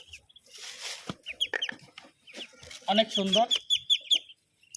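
Thirteen-day-old Chinese ducklings give rapid high, thin peeps in quick clusters, close by, alongside a person talking.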